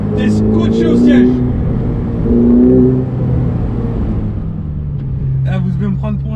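The turbocharged engine of a Ferrari 488 Pista accelerates with a rising, droning roar heard from inside the car, swelling in two surges while a person talks over it.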